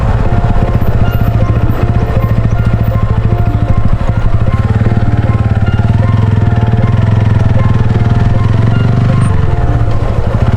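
A TVS Ronin 225cc motorcycle engine runs steadily up close, a loud, continuous low throb with a rapid pulsing beat that shifts slightly near the end.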